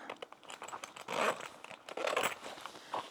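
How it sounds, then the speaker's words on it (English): Zipper pulls slide along the top of a handbag in quiet, close bursts of rasping, crinkly scraping, with two longer pulls among lighter fiddling sounds. "So I'm going to move my zipper pulls over"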